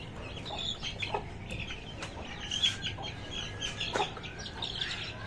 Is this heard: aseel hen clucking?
yes